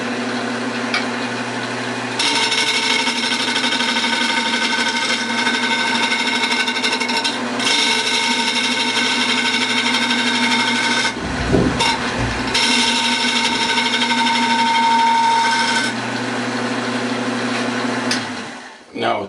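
A woodturning lathe drones steadily while a 1.5 inch scraper flattens the surface of a bowl, the cutting noise rising and dropping in long passes with short pauses between them.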